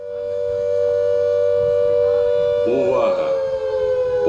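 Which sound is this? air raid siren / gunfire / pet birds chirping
air raid siren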